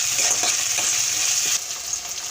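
Ground masala paste for a wild mushroom curry fries in a pan with a dense, steady sizzle, close and loud, with soft stirring scrapes and no voices.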